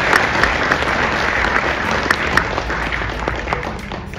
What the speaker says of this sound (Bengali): একটা করতালি দিয়ে